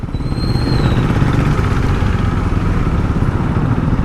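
A KTM Duke 390 motorcycle with an aftermarket exhaust idles close by, giving a loud, steady, low rumble that holds evenly for the full few seconds with no talking.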